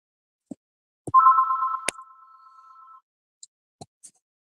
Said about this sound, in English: Your fucking phone loud as shit.